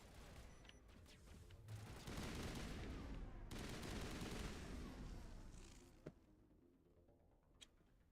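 Assault rifle gunfire from the Mass Effect video game: dense bursts of rapid shots and booming combat noise build into a sustained loud barrage, then thin out to a few scattered isolated cracks.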